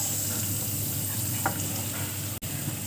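Onions sizzle steadily in a pan where eggs were just fried for a dry fish egg curry, a close, even hiss with one faint scrape and a single sharp click near the end.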